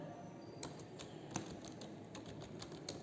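Light, quiet taps on a mobile phone keyboard while typing code, a scattered irregular series of soft clicks over steady background hiss, with no speech.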